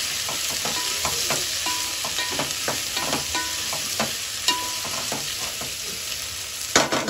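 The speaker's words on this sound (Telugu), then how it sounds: "ఇప్పుడు ఒకసారి మనకి ముక్కలు ఉడికాయా లేదో ఒకసారి మిక్స్ చేసుకుందాం." Mixed leftover vegetables for a veg biryani are stirred in a cooking pot, with repeated close spoon scrapes and clinks over a steady sizzle; a louder knock comes near the end, and there is no speech.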